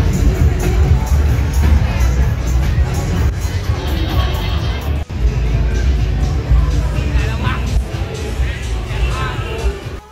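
Dense nightlife crowd on Bangla Road in Patong, Phuket, late at night: a steady loud hubbub of many voices with scattered cheers, a dull bang near the middle and a continuous low rumble underneath.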